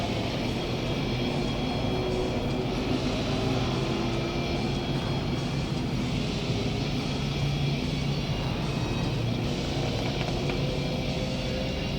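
Four-cylinder dirt-track race cars pass together on a Friday-night dirt oval, a dense, sustained engine roar that stays loud and constant as the field goes by.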